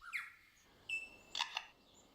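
A lyrebird in a forest mimics a camera shutter: faint electronic-sounding whistles followed by a quick cluster of sharp mechanical clicks, heard alone with no talking.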